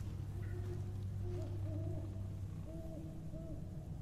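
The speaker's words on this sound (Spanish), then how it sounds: "Se escuchan los búhos." Owls hoot in the dark horror game Neverending Nightmares. Several soft, wavering hoots sound at a distance over a low, steady game ambience, with no talk.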